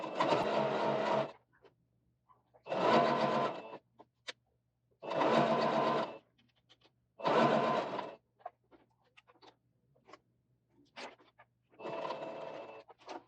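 Sewing machine stitching a shirt collar, running in five separate bursts of rapid whirring stitches, each a second or so long with short quiet pauses between, close and moderately loud.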